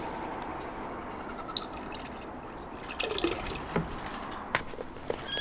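Bleach and water being poured into a bucket, a steady close trickle of liquid with scattered drips and splashes running throughout.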